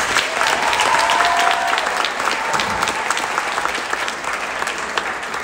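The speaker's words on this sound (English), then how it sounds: "Big round of applause for my colleague and friend, Mr. Ocasio." Warm applause from the audience at a middle school spring concert, a dense and steady burst of clapping that fills the hall with a few voices mixed in.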